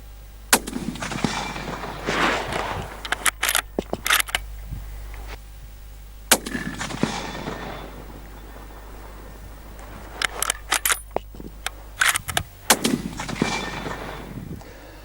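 Loud, sharp rifle shots aimed at a target 200 yards away, several cracks spread over about fifteen seconds with echoing tails and some handling noise between them.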